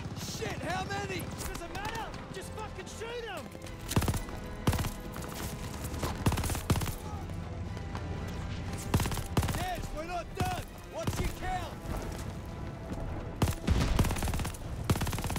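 Sharp gunshots crack in irregular bursts through a Call of Duty Vanguard battle at El Alamein, some single and some in rapid strings, over a din of battle effects with voices talking throughout.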